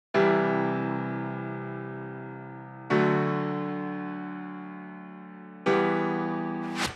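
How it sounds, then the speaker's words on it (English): Dramatic piano layer for an emotional future bass intro: three slow, sustained chords struck about three seconds apart, each ringing out and decaying gradually, soft and alone. "Add a dramatic piano to show that you're really sad."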